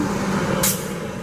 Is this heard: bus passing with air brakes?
yes